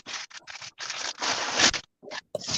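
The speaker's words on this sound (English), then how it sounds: "Stuff and origami paper that I'm putting in a Ziploc." Paper scraps rustle and crinkle close by as they are stuffed into a plastic Ziploc bag, in several scratchy bursts with short pauses between them.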